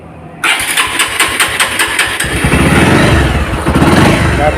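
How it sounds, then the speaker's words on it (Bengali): A used second-hand motorcycle is started close up: a brief cranking rattle catches, and the engine settles into a loud, steady idle with a rhythmic exhaust throb. "তো এখন গাড়িটার সাউন্ড শোনাবো আপনাদেরকে"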